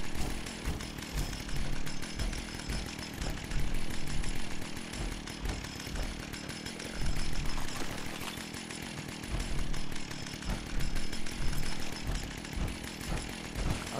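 A chainsaw in Fallout 76 revs steadily and loudly throughout, with a rough buzzing drone that swells and dips in repeated surges and is heard alone without talk.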